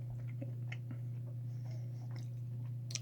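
Peppermint-style sweet mint gum is chewed with soft, faint, irregular wet clicks over a steady low electrical hum. No speech.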